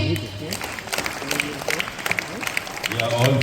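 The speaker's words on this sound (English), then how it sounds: "Keep clapping" An audience claps at an annual award function at SK Foundation school in Kolkata, the applause continuing unevenly beneath a loud voice talking over it.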